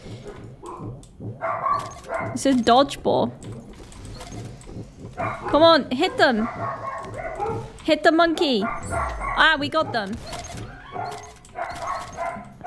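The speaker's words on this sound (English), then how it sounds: "My god, my dogs are annoying." Pet dogs bark and yip repeatedly in the room during a Roblox Arsenal gaming session, loud and close, mixed in with excited talking throughout.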